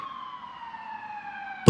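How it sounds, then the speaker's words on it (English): A police siren sounds as a single steady falling wail, loud and close, ending abruptly in a brief burst of noise. "followed by the scream of a siren"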